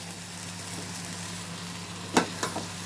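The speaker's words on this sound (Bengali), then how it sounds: "এগুলো নেড়ে নিচ্ছি ভালো করে" Food fries with a steady, moderate sizzle in a pan. Near the end a couple of distinct scraping strokes of a spatula stir it.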